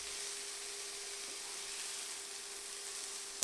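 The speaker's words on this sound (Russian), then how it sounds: "Обжариваем их, помешивая 2-3 минуты." Vegetables seasoned with Italian herbs fry steadily in a pan with a soft, continuous sizzle and hiss, with a faint clink near the end.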